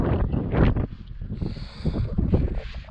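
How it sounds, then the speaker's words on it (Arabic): Desert wind in Mauritania blowing steadily into the microphone, a close, loud rushing roar with gusty swells and buffeting throughout. "الريح معانا"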